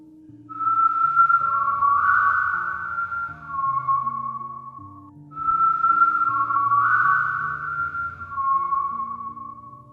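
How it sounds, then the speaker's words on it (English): Two long, wavering whistled phrases, high and clear over a low, sustained musical drone, with a brief pause between them. "The whistling started, and I could hear it clearly from my parents' room."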